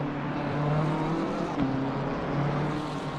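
A Ferrari GT3 race car in Assetto Corsa Competizione, its engine holding a steady droning note with slight rises in pitch, fairly close and continuous with no voices.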